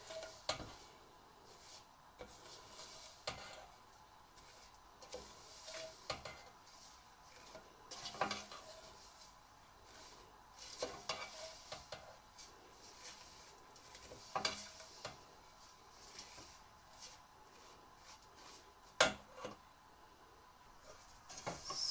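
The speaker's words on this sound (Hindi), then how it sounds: "अब हम इसमें सेवइयाँ डाल के सेवइयों को थोड़ी देर के लिए 2-3 मिनट के लिए भून लेंगे" Vermicelli roasting in a pan over low heat, quiet irregular scraping and clinking of a spoon stirring against the metal, with faint sizzle beneath and no talk.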